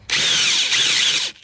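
A power drill drives a screw into concrete in one continuous loud high-pitched whir of about a second and a quarter, with a slight dip midway and a quick stop.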